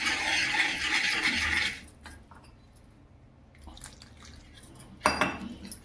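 Gram flour stirred with water in a metal pot to make besan batter, a bright splashing rush at first, then quieter scattered clinks and scrapes of a spoon against the pot.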